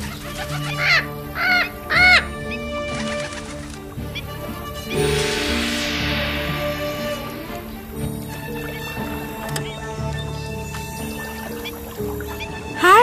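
A bird calls several times in short, bright bursts near the start, set against a full, busy background of other sound that continues throughout.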